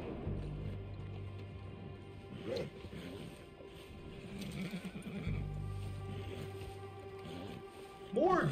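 A horse neighs and whinnies twice in the Red Dead Redemption video game, with a shorter whinny early and a louder one at the end, over steady low game ambience and faint hoof clip-clop.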